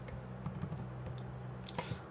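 Code being typed on a computer keyboard while writing a Java graph implementation: a quiet run of irregular key clicks with a few sharper taps near the end, close to the microphone, with no talk.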